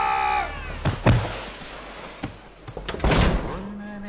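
A door is pushed shut with a couple of dull thunks and knocks amid a tense indoor scene, with voices and background commotion around the impacts.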